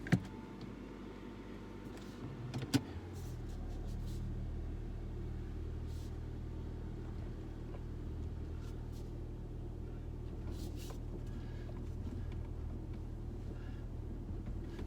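A car out on a road shakedown test drive after repairs runs with a low, steady engine rumble and road noise, preceded by a couple of sharp clicks or thumps, with no talk over it.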